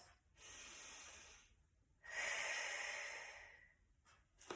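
Deep breath drawn up into the chest during a Pilates breathing demonstration: a long airy inhale followed by a louder, rushing exhale, close to the microphone, with no speech.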